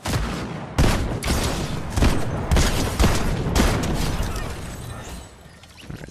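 Rapid bursts of video game gunfire from Fortnite, a dense fusillade of repeated shots with sharp transients every second or so, loud and close throughout with no talking.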